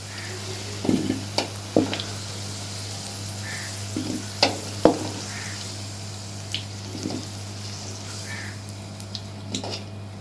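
Potatoes fry in a pan with a low, steady sizzle under a constant hum, punctuated by scattered clinks and stirring taps at irregular intervals.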